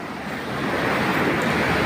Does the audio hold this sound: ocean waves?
yes